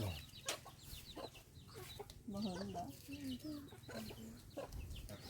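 Backyard chickens, including Burmese fowl, cluck and squawk close by in uneven bursts, with a person speaking briefly among them.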